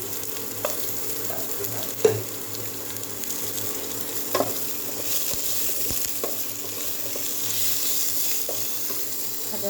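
Potatoes and masala frying in a pan before crab is added to a Bengali dish, giving a continuous close sizzle with intermittent stirring clinks and scrapes, a few sharper knocks, and no talking.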